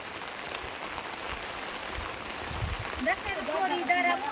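Rain falls steadily and heavily outdoors, a dense patter on surfaces that swells slightly toward the end, with faint voices and bird chirps in the background.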